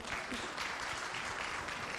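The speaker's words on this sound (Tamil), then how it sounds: "இவங்களுக்கு ஒரு பெரிய பலத்த கரகோஷம்." Audience applause at a school Pongal festival for fourth-grade students, a fairly quiet but continuous patter of many hands clapping in a hall, steady throughout with no talk.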